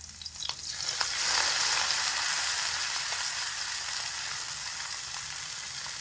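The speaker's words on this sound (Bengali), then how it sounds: "এবার এর মধ্যে দিয়ে দেব কেটে ধুয়ে রাখা চোদ্দ শাক" Fourteen kinds of chopped leafy greens, cut and washed, tipped into a hot pan for a vegetarian dish, giving a loud, steady sizzle with a few stirring scrapes at the start and no talking.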